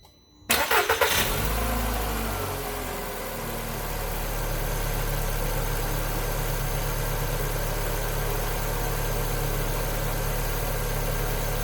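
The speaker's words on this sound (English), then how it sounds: "now all that's left is for us to start this thing up and make sure it doesn't have a misfire" A 2011 Volkswagen Jetta 2.0L engine, just fitted with new spark plugs and wires, cranks briefly then catches and settles into a steady, smooth idle, close and loud, with no talking.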